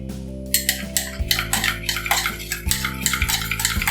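Coffee powder stirred with water in a cup, a spoon clinking and scraping rhythmically against the sides in quick repeated strokes, close and clear with no talking.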